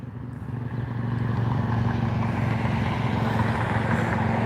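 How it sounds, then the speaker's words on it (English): A motorcycle engine revs outdoors at a shopping plaza, a steady loud throaty drone that swells in the first second and then holds, heard from a moderate distance. "he revved his motorcycle just for the live stream to make sure he was heard"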